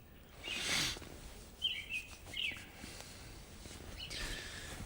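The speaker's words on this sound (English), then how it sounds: "You hear the birds? Yeah, you hear the birds?" A few faint bird chirps come from a distance over a soft outdoor hiss at an off-grid tent campsite in the morning after heavy rain, with short, scattered calls and no talking.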